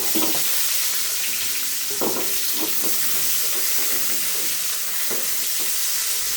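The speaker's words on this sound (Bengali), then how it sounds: "পেঁয়াজটা একটু ভেজে নিচ্ছি।" Onions fry in soybean oil in a wok for a duck curry, a steady close sizzle broken by several scraping stirs.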